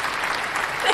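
A small group gives a brief, steady patter of clapping that stays moderately loud through the short moment, with no other sound standing out.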